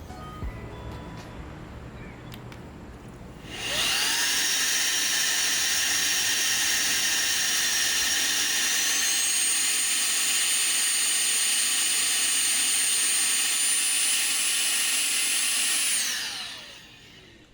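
An electric blower built to replace compressed air spins up to high RPM and holds a loud, steady, piercing whine for about twelve seconds before spinning down, heard close and alone.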